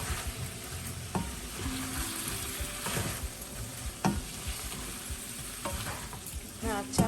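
Shukto vegetables sizzle in a pan as salt and sugar are stirred in, with repeated spatula scrapes and clacks against the pan over a steady low frying hiss.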